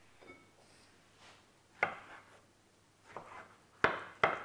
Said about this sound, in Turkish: Şöyle bıçakla küçük küçük kıyıyorum patlıcanları.